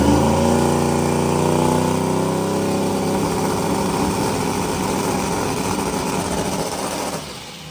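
A turbocharged purpose-built drag-and-drive car launches at altitude in Colorado, its engine roaring loud and steady as it pulls hard, the pitch shifting through the run before easing slightly near the end.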